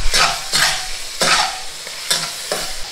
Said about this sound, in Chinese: 继续翻炒， 把它炒香，炒出红油。